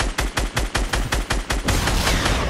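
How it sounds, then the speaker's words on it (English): Fortnite gunfire rattles off in rapid, evenly spaced shots, about ten sharp loud cracks close by that run together into a dense continuous burst at the end, with no talking. "Keep shooting him."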